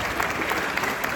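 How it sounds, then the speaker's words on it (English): Steady, dense applause from a live audience at a motivational youth tour event, filling the short moment loudly and evenly without any talking over it. "Give her a clap."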